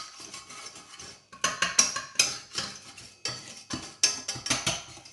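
A utensil scrapes and clinks against a pan while flour is stirred into melted butter for a roux, giving irregular bursts of sharp metallic scraping strokes, close and fairly loud, with short pauses between them.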